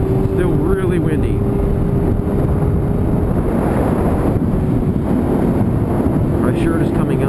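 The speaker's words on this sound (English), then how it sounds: "Nope, still windy. Still really windy." Heavy, steady wind roar buffets the microphone while riding a motorcycle at speed past ranch land, a constant loud rush with engine rumble underneath throughout.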